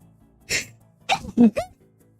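A single sneeze burst from a character in the video game Nancy Drew: Deadly Device, followed shortly by a couple of short vocal bursts, like a small follow-up reaction, fairly close and clear.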